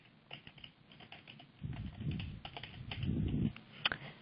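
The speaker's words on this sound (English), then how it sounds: "you go ahead and just type in your information" Login details typed on a computer keyboard, a quick irregular run of soft key clicks, faint and close, with some low background rumble in the middle.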